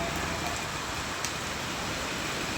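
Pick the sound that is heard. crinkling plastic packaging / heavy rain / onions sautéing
heavy rain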